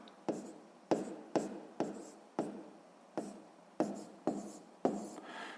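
A fraction is written by hand in a sixth-grade math exercise, with about ten crisp, evenly spaced pen or chalk strokes, each a sharp tap followed by a short scratch, heard close with no talking.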